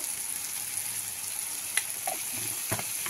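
Tomato, chopped chilli and spices sizzling steadily in a frying pan, a constant close hiss with a few faint scrapes of stirring and no talk.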